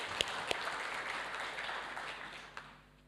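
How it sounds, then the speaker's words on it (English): Applause at an awards ceremony, faint and somewhat distant, with a few sharper claps standing out and the sound fading away toward the end. "and so applause to Kiara."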